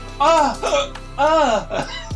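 A voice imitates a hiccup twice, each one a sharp, squeaky vocal gulp rising and falling in pitch, separated by a short pause.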